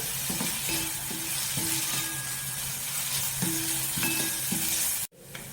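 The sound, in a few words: onions sautéing in oil in a pan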